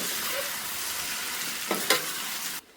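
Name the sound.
stirring vermicelli chicken pulao in pan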